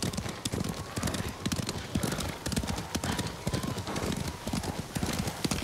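Horse hooves clip-clop steadily in a Ghost of Tsushima game scene, a continuous rapid rhythm of hoof strikes filling the clip with dense ground noise, and speech can be heard over the hoofbeats.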